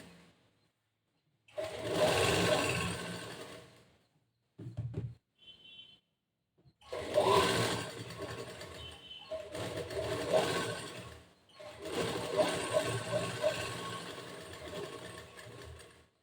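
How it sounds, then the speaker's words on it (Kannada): Sewing machine attaching lining to the main cloth of a blouse, running in several distinct bursts of steady mechanical whirring separated by short pauses with small clicks and handling noises, close and alone. "ಮತ್ತೆ ಇವಾಗ ಸ್ಟಿಚಿಂಗ್ ಸ್ಟಾರ್ಟ್ ಮಾಡ್ತೀನಿ"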